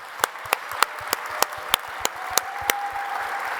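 A round of applause closing a round-table gathering of scholars: sharp, evenly spaced claps stand out close by, with softer clapping from a small group filling in behind.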